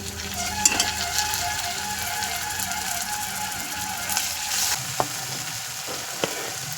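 Garlic paste drops into softened onions frying in a pan for egg curry, keeping up a steady, close sizzle, with scattered scraping strokes and a few sharp knocks of a spoon against the pan.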